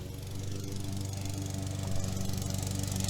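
A lawn mower engine runs steadily and loudly nearby, its deep rhythmic drone swelling slightly as it passes in a home garden with corn, broccoli and cherries growing.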